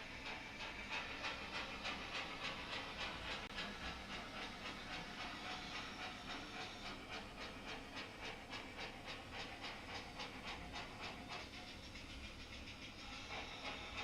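Live steam pannier tank locomotive on a garden railway track, giving a faint, steady hiss with soft rhythmic chuffing pulses throughout, heard alone without voices.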